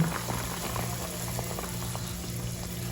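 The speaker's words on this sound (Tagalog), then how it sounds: "So, kumukulo na." A pot of sinigang soup with batuan bubbles at a steady rolling boil, a soft continuous gurgle with small pops over a low hum, no voices.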